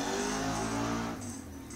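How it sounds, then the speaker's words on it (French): A motorcycle goes by loudly outdoors near a forest, its engine roaring steadily and then fading slightly as it moves away, with no talking. "il y avait une moto qui est passée un peu fort"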